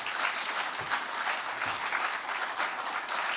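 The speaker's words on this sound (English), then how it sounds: "she deserves a huge round of applause." An audience at a risk management conference gives sustained, dense applause, a steady even crackle of many hands with no talking over it.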